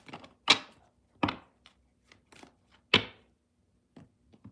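Tarot cards are given a brief mini shuffle during a reading, making a few sharp papery riffles and taps with quiet gaps between them, close and soft, with no talking.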